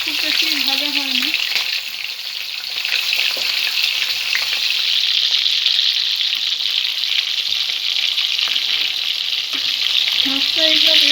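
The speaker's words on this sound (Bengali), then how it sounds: "মাছটা এইভাবে হালকা করে আমি ভেজে নিয়েছি।" Prawns sizzling lightly in hot mustard oil in a kadai, a steady crackling fry with occasional stirring knocks, and a voice speaking briefly at the start and near the end.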